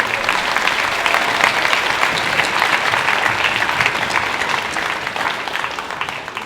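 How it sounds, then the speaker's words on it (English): Steady, sustained applause from a large audience in a high school gym during a senior night celebration, filling the room without a break and tapering slightly at the end. "Let's give her a round of applause for getting all that."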